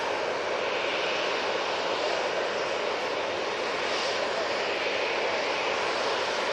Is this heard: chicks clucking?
no